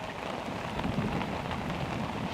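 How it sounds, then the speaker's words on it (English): Heavy, steady tropical downpour in the Amazon in Guyana, roaring without a break, a dense wash of rain hammering surfaces with no voices. "we're hit by a heavy tropical rainstorm"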